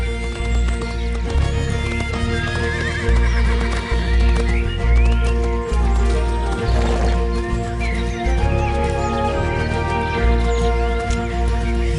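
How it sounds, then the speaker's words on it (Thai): A Franches-Montagnes (Freiberger) horse in the Swiss Jura, heard amid steady hoof clip-clop and a dense, loud continuous backdrop, with whinnies rising briefly over the clatter. "ม้าฟรายแบเกอร์ หรือที่เรียกว่า ม้าฟรองมงการ ผสมพันธุ์ขึ้นในสวิตเซอร์แลนด์เมื่อ 200 ปีก่อน"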